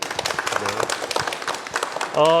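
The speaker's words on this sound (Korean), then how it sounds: "우리 박수 한번 치고 갈까요?" Studio audience at a town hall meeting gives a short round of scattered clapping, light and irregular, with a voice speaking over it just before a louder tone at the end.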